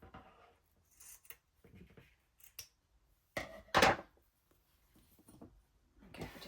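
Scissors snip through paper scraps for a junk journal in a few short, scattered cuts, with one louder rustling crunch midway and soft handling noises between.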